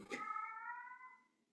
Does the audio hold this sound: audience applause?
no